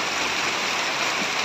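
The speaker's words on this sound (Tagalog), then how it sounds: "Itong ulan na to." Steady rain falls on a construction site during purlin installation, a dense continuous wash of drops with no voices, even and unbroken from start to finish.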